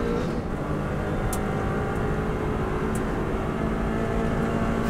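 A Subaru WRX STI rally car driven flat out on the Isle of Man roars with a loud, sustained engine note at full throttle, steady throughout with a couple of brief sharp clicks.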